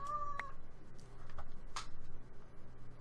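A cat lets out a short, faint meow near the start, followed by a few soft clicks over a quiet, low background hum.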